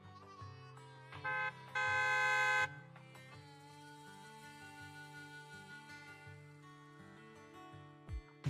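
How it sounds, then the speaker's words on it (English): A loud truck horn blast in the video game Zenless Zone Zero rings out briefly over a steady background of music, with a sharp thud near the end. "A loud honk echoes as several trucks with the Leaps and Bounds logo drive up."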